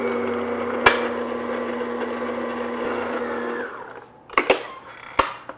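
An electric mixer beats sour cream into cheesecake batter with a steady whirring hum that cuts off partway through, followed by a few sharp knocks and clatters from the bowl and beaters.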